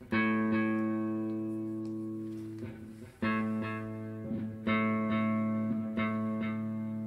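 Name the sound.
electric guitar riff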